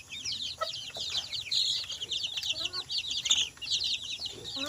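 Rhode Island Red and Black Australorp chickens cluck among busy, high chirping from a flock, a continuous lively farmyard chatter with no talking.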